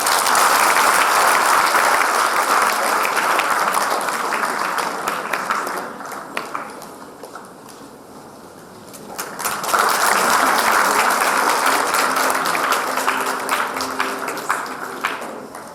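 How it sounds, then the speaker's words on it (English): Loud applause from an audience at a Model United Nations closing ceremony, swelling, easing briefly in the middle, then building again into sustained clapping. "big huge round of applause for her"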